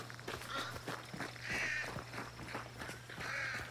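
Crows caw in the Hunt Showdown game world, giving several harsh calls at moderate distance over soft footstep-like thuds and a low steady hum.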